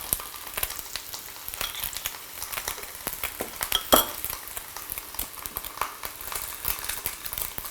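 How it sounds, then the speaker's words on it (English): Tofu frying in a pan for vegan ramen, a steady crackling sizzle with scattered sharp ticks and an occasional clink of a utensil against the pan, close and moderately loud with no talking. "I'll let it fry a little bit more"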